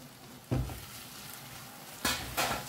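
Smashed rajma frying with masala in a hot pan: soft, steady sizzling with three louder bursts of crackling, likely as the beans are stirred or pressed.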